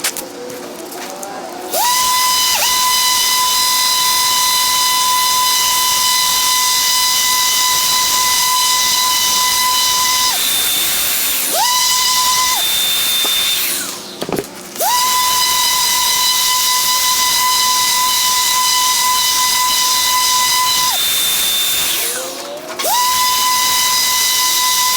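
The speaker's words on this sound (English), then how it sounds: "the easier it is to then sand up to the higher grit" A power sander works over an epoxy serving tray with a loud, steady, high whine over a hiss. The whine drops out briefly three times when the tool lifts or stops, then starts up again.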